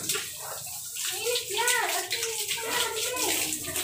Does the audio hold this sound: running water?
yes